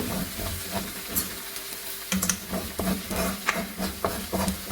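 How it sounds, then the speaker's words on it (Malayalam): Chili and coriander powder sauté in a little oil for a chickpea curry, a soft sizzle broken by irregular scraping and tapping strokes of a spoon against the pan. "ഇനി നമുക്കിതെല്ലാം ഒന്ന് വഴറ്റിയെടുക്കാം. അധികം എണ്ണയില്ല, എന്നാലും നമുക്ക് ഈ ഉള്ള എണ്ണയിൽ നമുക്കിതൊന്ന് റോസ്റ്റ് ചെയ്തെടുത്താൽ മതി."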